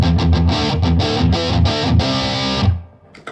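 Electric guitar with light distortion strums a quick run of chords, slightly gritty and loud, then cuts off into brief quiet string noise.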